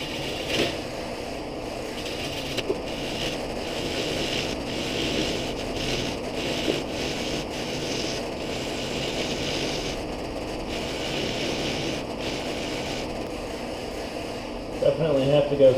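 A wood lathe turns a bowl held on a vacuum chuck at about 450 RPM, giving a steady, moderately loud mechanical whir with faint intermittent ticks throughout.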